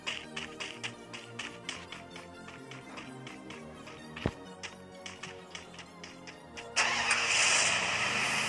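A vehicle engine in the battle-royale game Free Fire. A series of light mechanical taps and knocks is followed by a sudden louder, steady engine roar that kicks in near the end, with no talking over it.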